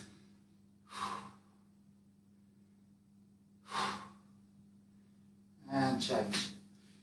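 Three distinct breaths come from a person holding a stretch, spaced a few seconds apart and close up, over a faint steady hum with no other sound between them.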